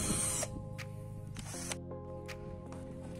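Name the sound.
cordless drill drilling wood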